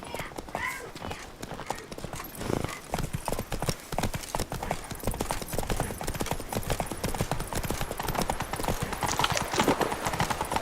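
Rapid clip-clop of Roach's hooves at a gallop in The Witcher 3: Wild Hunt, continuous and close with a brief whinny, with talking throughout.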